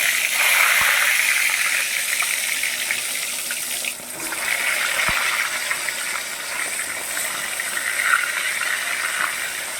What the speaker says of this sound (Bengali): এই দেখুন আমি নুন হলুদ লাগিয়ে রেখে দিয়েছিলাম। এবার আমি এটা ছেড়ে দিচ্ছি।